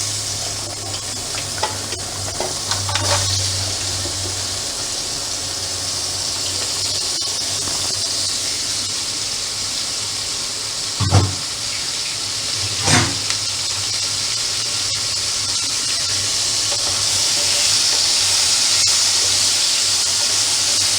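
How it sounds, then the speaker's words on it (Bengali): Crab pieces frying in hot oil seasoned with turmeric give a steady close sizzle and hiss throughout, broken by a couple of brief sharp stirring clatters, with no talking. "এবার এটাকে ফ্রাই করে নেব।"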